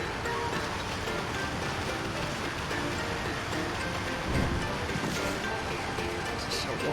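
Steady rushing wind in the video game Okami fills the scene in a continuous broadband roar, with a brief louder gust partway through.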